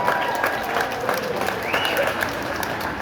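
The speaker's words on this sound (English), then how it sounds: "let's give a big round of applause for just being back together" Sustained audience applause with crowd noise at a music and arts event, dense clapping throughout, with a few voices faintly mixed in.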